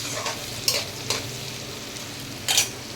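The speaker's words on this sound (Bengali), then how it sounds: "গরম মশলা ফোড়নছি" Garam masala tempering in hot ghee gives a continuous soft sizzle, broken by a few sharp scrapes and spoon clicks as the whole spices are moved around the pan.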